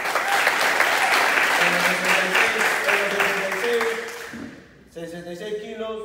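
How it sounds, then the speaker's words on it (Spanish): Crowd applause for a debuting professional fighter at an Inka FC ceremonial weigh-in, loud clapping mixed with cheers and a voice over the top, fading near the end before someone speaks and music or noise returns. "Un aplauso para él."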